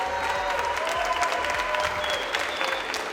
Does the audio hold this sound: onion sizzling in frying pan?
no